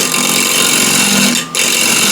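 Wooden bowl spinning on a lathe while a refiner scraper with burrs fresh from the grinder cuts: a loud, steady whirring, rasping buzz up close, briefly dipping near the middle before resuming.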